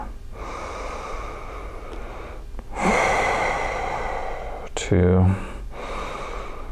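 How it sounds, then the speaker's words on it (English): Deep, audible inhales and long exhales come during a full-body stretching routine. A voice briefly says a word amid the steady breathing. "This breathing's really good for you."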